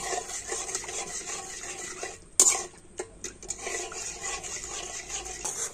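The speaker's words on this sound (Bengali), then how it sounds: "আর এবার আমি গুড়টাকে কিন্তু একটু ফুটিয়ে নেব।" Jaggery and water syrup bubbles in a pan with a steady seething hiss and soft clinks of stirring, broken by one sharp utensil knock partway through.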